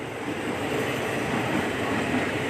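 A long passenger train on Thailand's Eastern Line rolls past close by near Hua Takhe station, a loud continuous rumble and rush of rail noise with a steady rattle, no voices.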